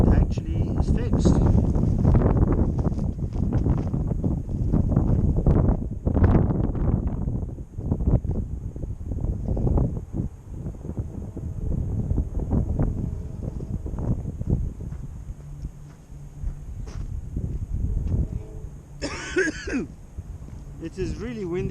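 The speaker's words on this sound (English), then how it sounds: "It is really windy out here" Strong wind blowing outdoors, rough buffeting gusts battering the microphone in a continuous roar that eases somewhat toward the end.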